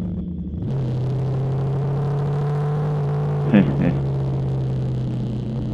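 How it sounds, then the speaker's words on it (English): A Kawasaki Z250 SL motorcycle riding through Philippine traffic, its engine humming in a steady, close drone under wind noise, with a brief sharp burst midway, and someone talking over it. "I'm glad I'm on a big motorcycle like my Z250 SL."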